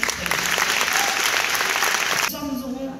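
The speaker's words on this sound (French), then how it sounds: "Vous pouvez vous applaudir." Dense, loud audience applause fills the Olympia concert hall at a rakugo evening. It runs steadily for a couple of seconds, then cuts off abruptly as a tonal sound takes over.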